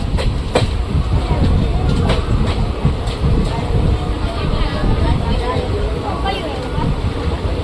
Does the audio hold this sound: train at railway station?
yes